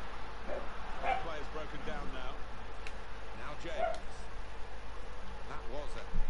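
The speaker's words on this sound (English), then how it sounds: "Our dog's barking." A pet dog barks indoors at home while a football video game runs, giving a few short, separated yaps at moderate distance over a steady background hum, with muffled voices around it.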